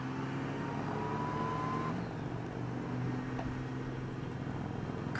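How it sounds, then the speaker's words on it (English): A motorcycle-style road vehicle engine held under a steady throttle, a continuous droning roar with a constant low hum and wind rush throughout, no distinct rev spikes, moderately loud and unbroken. "Time to crank the throttle."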